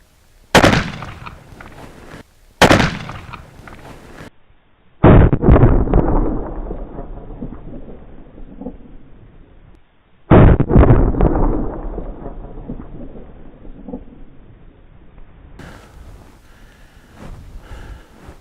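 Loud gunshots from a BFR .460 S&W Magnum revolver fired at cans outdoors, four sharp blasts with booming echoing tails, the first two close together and the next two spaced a few seconds apart.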